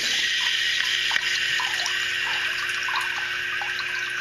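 Steady rush of water filling the reservoir of a Puratek 100 water system, a continuous hiss with faint trickling and dripping details, close and unbroken, with no talking.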